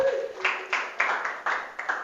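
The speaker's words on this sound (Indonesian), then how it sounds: "tepuk tangan lagi untuk kelompok 2" A small classroom group claps for a student team, sparse distinct hand claps in an irregular rhythm, about eight or nine separate hits, fairly quiet, with a brief voice at the start.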